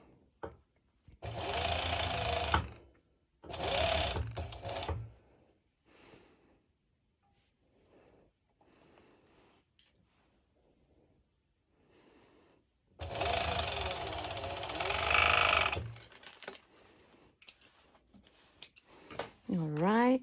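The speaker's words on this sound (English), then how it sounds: "this time I'm sewing over 4 layers, and I've placed the lycra on top of my lining." A sewing machine stitches through four layers, lycra over lining, for ruched pole bottoms, running in three separate bursts of steady rapid whirring, with a person speaking quietly in the pauses between runs.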